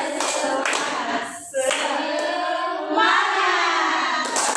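Children clap together in a rhythmic classroom cheer, dense overlapping handclaps running continuously with a brief dip partway through, fairly loud and close.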